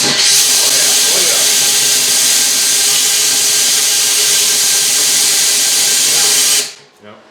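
Air rushes steadily through a merged VW exhaust header, a loud, close, broadband hiss that holds for several seconds and then cuts off abruptly, leaving faint low rumble.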